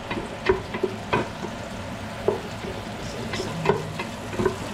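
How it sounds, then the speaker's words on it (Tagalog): Onion, garlic and tomato sauté in a pan with a low steady sizzle, broken by intermittent scraping and stirring clicks of a utensil close by. "sibuyas, bawang, at saka kamatis"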